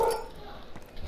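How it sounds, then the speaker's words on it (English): A dog in the room gives a short bark or yelp at the very start, brief and fairly close, followed by quiet room noise. "Everybody gets to hear my dog."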